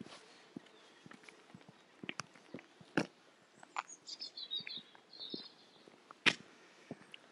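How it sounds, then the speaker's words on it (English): Birds sing outdoors in a quiet village under a clear sky, scattered chirps and short trills rising and falling at moderate distance, mixed with footsteps and light clatter on a walk. "Birds singing, beautiful blue sky today"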